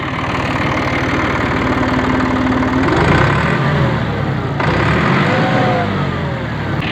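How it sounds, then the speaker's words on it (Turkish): A Massey Ferguson 3060 turbo tractor engine, fitted with a new injection pump, injectors and LDA, runs steadily close by. A low, even idle holds throughout with a faint rise in revs partway through. It is heard alone with no talking. "Motorumuzun sesi gayet iyi."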